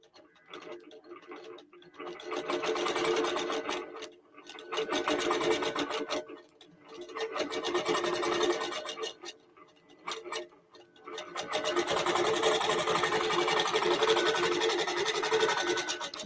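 A QBOT V3 Pro quilting machine stitches in bursts, its rapid needle chatter running for a few seconds, pausing briefly, then resuming in a longer steady run, close and clear with no talking.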